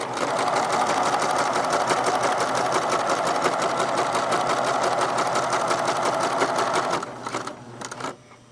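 A sewing machine runs steadily, stitching long gathering stitches in two rows across fabric, a fast even mechanical rattle held close and loud for about seven seconds before it slows and stops.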